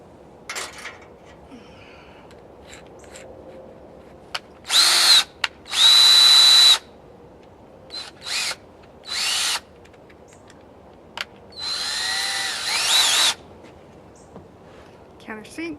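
A power drill cuts countersinks in wood for a table, in several short, loud whirring bursts of a second or two each, separated by quiet gaps in a close indoor setting.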